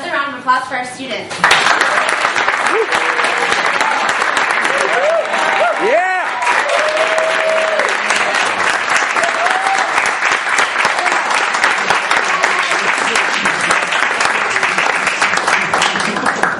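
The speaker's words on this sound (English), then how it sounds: "another round of applause for our students" A community event crowd in East Boston gives students another round of applause: sustained, loud clapping from many people, with a brief spoken voice at the start and faint voices mixed into the ovation.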